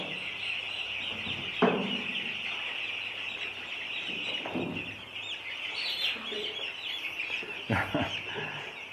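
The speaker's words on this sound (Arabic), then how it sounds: "زي ما حضراتكم شايفين الكتكوت، بسم الله ما شاء الله، على ايدينا اهوت" Five-day-old poultry chicks chirp in a dense, continuous chorus close by, with a few louder broadband thumps and rustles mixed in.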